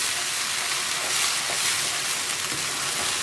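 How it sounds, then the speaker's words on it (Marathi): Onions and garlic fry in a pan over medium heat, a steady close sizzle and crackle holding at even loudness with no voice. "अनियन्स आनी गार्लिक आतां ऑलमोस्ट फ्राय जाले न्हू."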